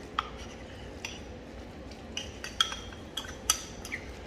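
A utensil mixes chopped tuna in a dish, producing light scattered clinks and taps against the bowl over a soft background hum.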